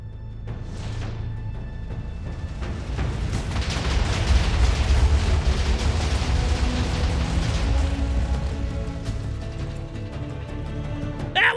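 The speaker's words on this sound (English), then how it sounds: "press this button right here, and we set off a massive explosion" A massive explosion in Minecraft modded with Ars Nouveau: a deep, loud boom rolling into a long sustained rumble and crackle that fills most of the clip, with no talking.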